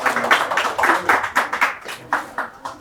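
A small group clapping for two people at a coffee shop event, a brief burst of close, individually distinct handclaps in a loose uneven rhythm, with no talking.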